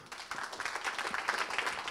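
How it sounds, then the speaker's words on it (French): A small audience at a French tech demo evening claps briefly, a short burst of scattered applause at moderate level. "Je crois qu'on peut l'applaudir."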